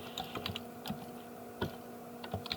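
Quiet, close typing on a computer keyboard: scattered individual key clicks in an uneven rhythm, soft and intimate, with no voices.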